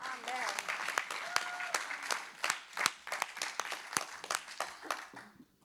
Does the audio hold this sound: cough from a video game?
no